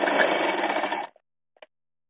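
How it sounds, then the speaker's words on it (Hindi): Sewing machine stitching folded cotton fabric for a summer dress, a loud continuous whirring run of about a second that stops abruptly, followed by a few faint clicks. "मोड़ करके फिर से एक सिलाई लगा देंगे ऊपर"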